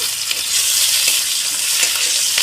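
Onion and green chilies frying in oil for a home-style fish curry, a loud, dense, continuous sizzle with faint crackles, close up and alone without talk.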